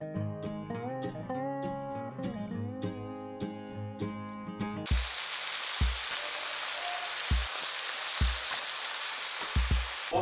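Music plays for about five seconds, then cuts to a steady hissing sizzle of mushrooms and onions frying in a pan, with occasional low thumps and clatters.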